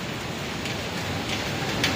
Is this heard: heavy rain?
yes